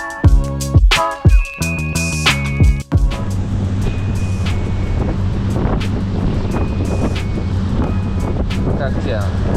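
Wind roars and buffets a microphone aboard a moving yacht off Greece, a steady rushing noise under engine hum, with a few loud knocks and tones at the start.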